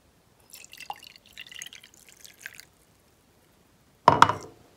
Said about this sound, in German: nun nehme ich die Kräuter heraus und lasse den Tee durch ein Sieb